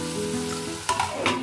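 Chicken gizzard dry curry sizzles steadily in a wok, with a couple of scraping stirs cutting through the close, continuous frying hiss.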